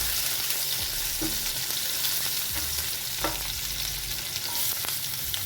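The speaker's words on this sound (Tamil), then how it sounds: "லைட்டாக வதங்கின உடனே வெங்காயம் சேர்த்துக்கோம்" Onions sizzle steadily in a hot pan after garlic, a dense, constant hiss with a few soft stirring scrapes, close and without talk, while cooking egg gravy.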